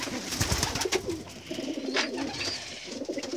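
Pigeons coo nearby around a loft housing chicks of scaled pigeons, giving soft, repeated, throaty calls over faint background rustling.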